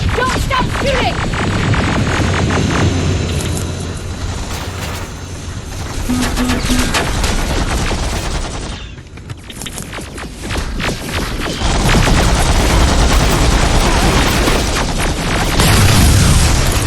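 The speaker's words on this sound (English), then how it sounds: "Don't stop shooting!" Gunfire in the video game Terminator Resistance, a dense, loud barrage of shots and booms running almost continuously, briefly dropping off before resuming with full intensity.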